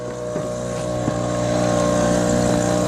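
Small tender's outboard motor strapped to the stern, pushing a sailboat along as its only steerage, giving a steady droning motor hum with some wind noise and faint thumps, gradually growing a little louder.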